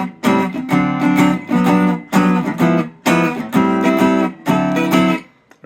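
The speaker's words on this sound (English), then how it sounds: "here is the sound of just the guitar" Unamplified hollow-body jazz box guitar played acoustically with no microphone or pickup, strummed chords in short rhythmic bursts with bright string ring, close and fairly loud.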